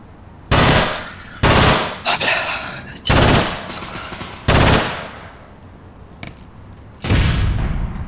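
Loud bursts of automatic gunfire from the video game APB Reloaded come in about six separate volleys, each around half a second long, with quieter shots and game ambience in the gaps between them.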